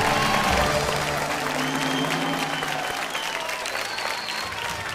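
Studio audience at the Ke Bani Crorepati quiz show bursts into dense, steady applause for a correct answer, loud and sustained throughout, with faint musical tones ringing underneath.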